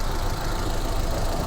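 Idling engine of a 2007 Maruti Suzuki Zen Estilo LXi with a 1.1-litre petrol engine, a steady, even rumble with light knock and vibration, heard close by with no talk over it.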